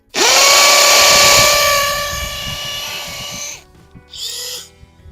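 DeWalt DCD805B 20V Max hammer drill boring a 1/4 inch hole, a loud, close steady high whine that winds down after about three seconds, followed by a short second burst, with no talk.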